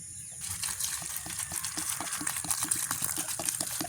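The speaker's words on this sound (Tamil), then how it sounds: "நாங்கள் இப்போ காளான கழுவி எடுப்போம்" Mushrooms are washed by hand in water, splashing and sloshing close by in a steady churn of liquid noise after a brief quieter start.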